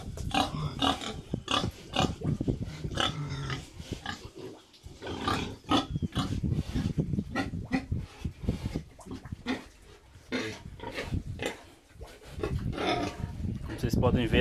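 Pigs in a pigsty on a Brazilian farm grunt and snort repeatedly in close, busy bursts, with someone talking over them throughout.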